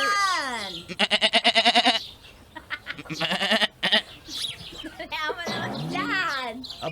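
Goats bleat in loud, close, wavering cries, several in a row with brief pauses, while people talk around them.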